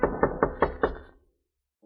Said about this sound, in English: so I knocked and waited.